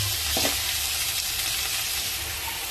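Ripe red chillies hit hot oil in a frying pan, giving a loud, steady sizzle and crackle that runs the whole time, with a brief clink near the start and no talking.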